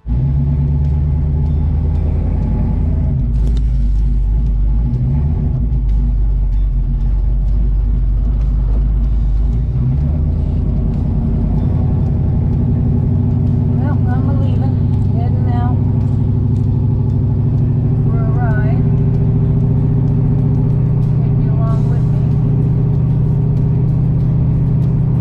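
A 1965 Ford Mustang engine rumbles steadily on a drive, a low mid-range drone that rises and settles with throttle, with voices talking over it at times.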